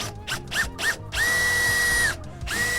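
Makita power drill bores a guide hole into wood for a cabinet in a 1971 VW Bus highroof, a few short trigger bursts followed by a sustained close whine, a pause, then it spins up again.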